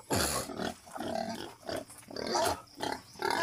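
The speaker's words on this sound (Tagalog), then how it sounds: "Ang aming baboy, marumi." Hungry pigs grunt and squeal in a pen below a house, with loud, close, overlapping bursts in quick succession.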